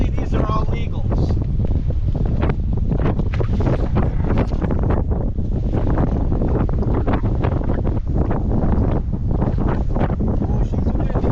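Strong wind buffets a boat on a lake during walleye fishing, roaring steadily and loudly across the whole stretch with constant low rumble and gusty bursts, no clear talk over it.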